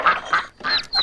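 Cartoon ducks quack in a museum, several loud, nasal honking calls in quick succession with short gaps between them.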